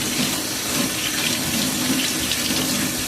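Steady running tap water splashing into a sink while a kitchen knife is washed, loud and close, with a continuous rushing flow and no talking.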